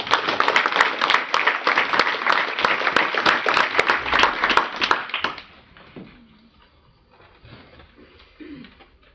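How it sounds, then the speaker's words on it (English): Applause from the audience at a council meeting, honouring a student receiving an award: dense, loud clapping for about five seconds that stops abruptly, followed by quiet room noise with a few faint voices. "Could I have an applause for Anna?"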